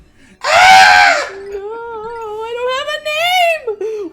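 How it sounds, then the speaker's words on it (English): A Pikmin in the Pikmin video game lets out a loud, sharp scream after being lost in battle, followed by a long, wavering, falling wail. "You lost one in battle. The screaming Pikmin."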